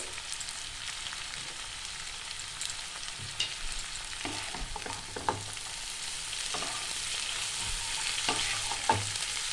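Shredded carrot and cabbage stir-fry in a pan with a soft, even sizzle, broken by scattered clicks and scrapes of a spatula against the metal.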